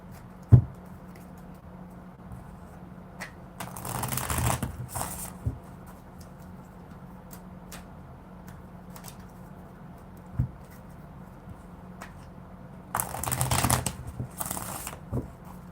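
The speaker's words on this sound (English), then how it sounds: "So I'm just shuffling a little bit here." Two bursts of card shuffling riffle close by, each lasting about a second or two, separated by quiet with occasional light taps.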